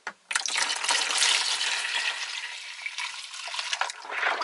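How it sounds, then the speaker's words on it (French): Diluted soda crystal solution made with hot water is poured and stirred into black soap, giving a continuous close liquid pouring and sloshing sound with brief gaps and small splashes. "ce mélange cristaux que vous avez dilué avec de l'eau chaude, une fois que c'est dilué, hein, vous voyez bien, hein, et ben vous venez le mélanger au savon noir"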